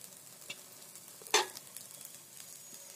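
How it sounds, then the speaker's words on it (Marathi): A spoon stirs vegetable pulao rice with coriander in a pot, a soft quiet scraping with one louder clatter in the middle and faint sizzling underneath. "आता मस्त हे सगळं हलवून घेऊया"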